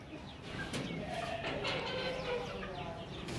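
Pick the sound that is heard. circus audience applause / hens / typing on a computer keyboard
hens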